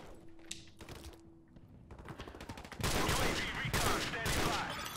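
Rapid gunfire from a gun in the shooter Modern Warfare Remastered, with scattered shots at first and then dense, loud automatic bursts that keep going, plus game noise and faint talk underneath.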